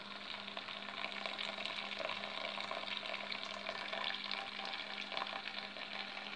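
Water is tipped out of a saucepan of green beans on the stove, a continuous close watery hiss and bubbling with a faint steady hum underneath.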